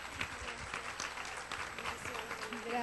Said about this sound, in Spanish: así que un fuerte aplauso para ella.